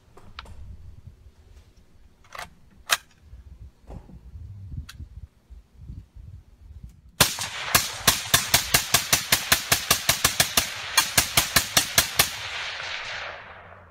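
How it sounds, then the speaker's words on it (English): Rapid string of suppressed semi-automatic rifle shots, about twenty sharp cracks in quick regular succession, preceded by a few scattered isolated reports and handling noises. "I also happen to have here a semi-automatic rifle with a suppressor on it. And I'm going to demonstrate that this isn't silent."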